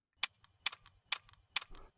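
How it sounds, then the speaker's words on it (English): Empty gun in a VR shooter game clicking on each trigger pull, four sharp dry clicks spaced about half a second apart, each with a faint rattling tail, quiet and isolated. "you will hear a clicking sound like this every single time you press the trigger."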